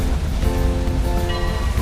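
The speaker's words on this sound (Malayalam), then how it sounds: "പൊതുവേ മഴയത്ത് ഇങ്ങനെയൊക്കെ വണ്ടി ഓടിക്കുമ്പോൾ മെല്ലെ പോകുന്നതാണ് സേഫ്" Heavy rain drums steadily on a car while driving, amid a broad roaring wash, close and loud, with a faint tonal hum underneath.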